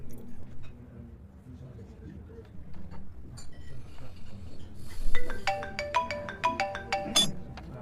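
A mobile phone ringtone chiming in a quick repeating pattern of bright electronic notes, starting midway and growing clearer, heard indoors during a meal scene in a Hindi Bollywood action movie, with faint background noise beneath.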